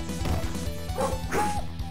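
Dog barking in the arcade beat-'em-up Crime Fighters 2, several quick yapping barks mixed with game music and hitting thwacks and crashes, fairly loud and busy.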